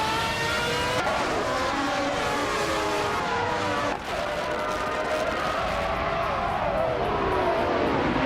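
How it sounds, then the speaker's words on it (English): Race cars launching at the start of a race at Imola in a racing video game, a dense loud roar of engines revving and shifting up together, with rising and falling whines throughout. "the race kicks off at Imola and Cheryl Mizurosi's is on pole"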